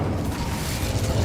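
A Confringo spell explosion in Hogwarts Legacy gives a continuous, rumbling boom with a dense low-end roar that holds steady for about a second, loud and close.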